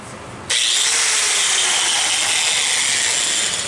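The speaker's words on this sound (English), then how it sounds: "So, you take your grinder." An angle grinder spins up abruptly and runs with a loud, steady high-pitched whine and hiss, close by and continuous.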